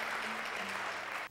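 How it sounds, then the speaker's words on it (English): A keynote audience breaks into a short burst of dense, steady applause that fills the room and then cuts off abruptly. "that deserves applause"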